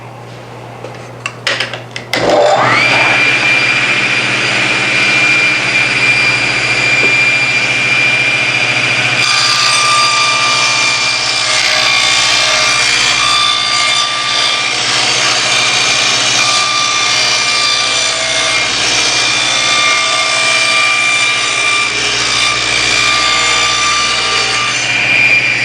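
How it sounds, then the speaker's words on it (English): A table saw rips plywood cabinet sides to final width, starting with clunks and a rising motor whine, then a sustained loud, steady cutting roar that shifts tone partway through the long pass. "They're ready for final cuts on the table saw."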